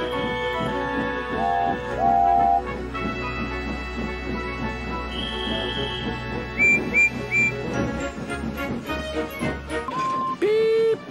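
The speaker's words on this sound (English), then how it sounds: "Everyone knew that sound. Shh! Hissed Henry and James. Beep, beep! Whistled the engines." Short, high steam-engine whistle toots from animated Thomas and Friends engines ring out several times over a busy musical background, each blast brief and bright.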